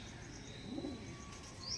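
A Kalshira pigeon gives a single short, soft coo, faint and brief amid quiet background noise, with a faint higher chirp near the end.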